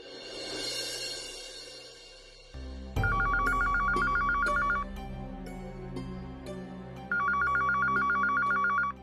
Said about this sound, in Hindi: फोन वाजतोय केव्हाचा